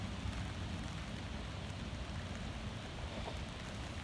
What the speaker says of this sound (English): Oh my god, it's actually raining.